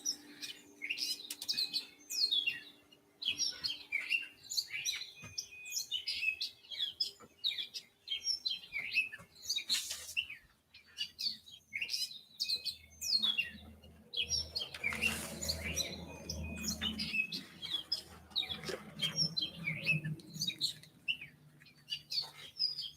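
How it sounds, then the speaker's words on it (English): Recorded birdsong plays as a sound effect, with dense bright chirps and tweets repeating throughout at moderate volume and a brief low rumble partway through. "I'll give you some birds chirping while I do that."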